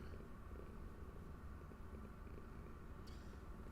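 A contented cat purrs softly and steadily up close, a faint continuous rumble with no voices over it.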